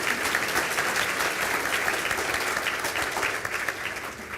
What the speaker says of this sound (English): Could I invite the audience to clap their hands for Julian in his absence?